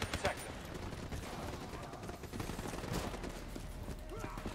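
Rapid gunfire in Black Ops 3 as a player shoots down bats, a dense, steady crackle of shots with game effects running throughout.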